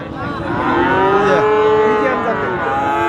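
A heifer at a crowded livestock market in Sirajganj gives one long, loud, close moo lasting nearly the whole moment, with the hum of the market behind it.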